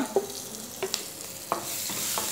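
Roasted peanuts and green chilies sautéing in a pan for sabudana khichdi, a soft steady sizzle broken by several sharp scraping stirs of a spatula, close with no talking.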